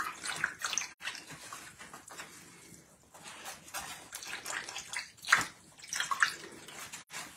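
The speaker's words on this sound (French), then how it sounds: "Je vais le rincer comme il faut pour qu'on voit bien les jaunes verts." Running water rinses marbled watercolor paper, a steady broadband wash with occasional louder splashes and surges, close and alone without talk.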